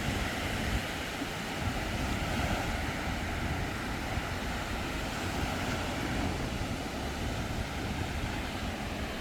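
Winter surf breaking at a Busan surfing beach, a continuous low roar of waves mixed with wind buffeting the microphone, steady and fairly close with no voices.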